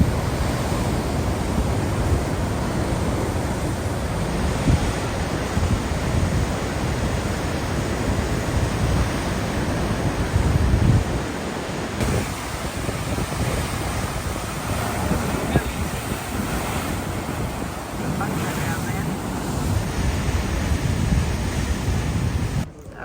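Ocean waves surge and wash along an Italian coastline beside a hiking path, a loud continuous roar with wind buffeting the microphone throughout.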